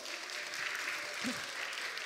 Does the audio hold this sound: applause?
yes